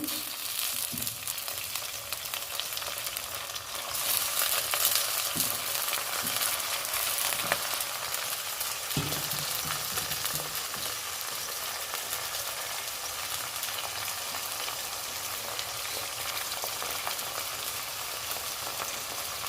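Pieces of eggplant hit a hot oiled pan and fry with a steady, close sizzle and crackle, broken by a few scrapes and taps of stirring, with no voices.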